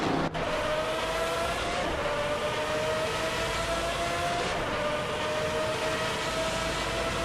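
Race cars in a racing game, a steady, dense engine roar holding one sustained tone throughout, with a brief louder burst at the start and no voices.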